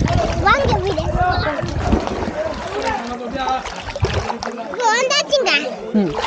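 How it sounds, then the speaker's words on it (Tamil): Children splash and shout in a resort swimming pool, with continuous sloshing water, excited kids' voices and adult talk close by. "இப்போ நம்ம ஸ்விம்மிங் பூலுக்கு வந்துட்டோம்."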